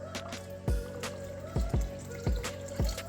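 Water added to a spicy, thick birria broth to thin it into a caldo-like consistency, heard as a few close, separate splashes and drips spaced about a second apart over a low, constant background hum.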